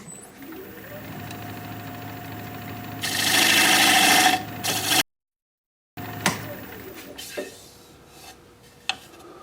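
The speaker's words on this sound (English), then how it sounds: "So now I will straighten up my tenon here, and for that I'll just use this diamond point tool" A diamond point tool cutting the tenon of a thin cedar bowl on a wood lathe, a loud buzzing, grinding cut for a couple of seconds among motor hum, then a pause and lighter scraping, no talk.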